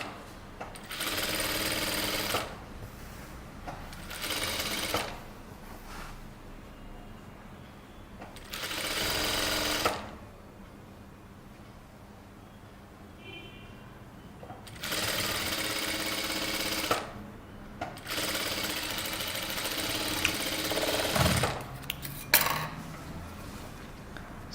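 A sewing machine top-stitching a boat neck kurta runs in several loud, steady whirring bursts of a few seconds each, separated by quiet pauses, with no one talking.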